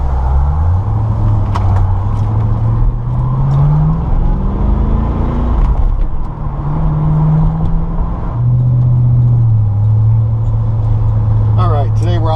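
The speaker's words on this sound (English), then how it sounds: "Today we're out driving a 1996 Chevrolet Corvette LT4" A 1996 Chevrolet Corvette Grand Sport with the 330-horsepower LT4 V8 drives along, its steady engine drone rising and falling through the gears from inside the car, with a voice talking over it.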